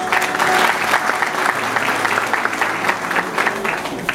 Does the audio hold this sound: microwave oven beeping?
no